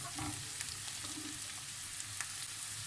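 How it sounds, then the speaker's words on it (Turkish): Peppers, vegetables and mushrooms sauté in a pan, a soft, steady sizzle heard close but faint, with a few light stirring scrapes. "Ve mantarlarla da güzelce pişene kadar böyle sotelemeye devam edeceğim."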